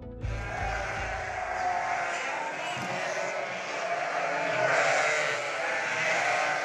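Sheep bleat at a sheep farm in a settlement, with several overlapping calls over a steady crowd-like background.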